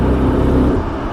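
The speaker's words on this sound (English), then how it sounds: "And the engine cuts out." Porsche 918 hybrid engine idling with a steady low rumble that fades slightly toward the end as it cuts out, close and alone.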